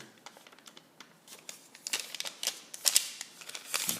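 Sheets of paper are handled and crumpled at close range during a pre-algebra lesson, with sharp crinkling bursts and rustles that start sparse and grow louder and denser toward the end, and no voices.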